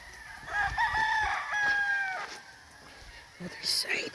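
Fighting cocks at a farm in Murcia, Negros Occidental crow in overlapping, drawn-out calls, fairly close, with a higher call near the end and faint talk in the background.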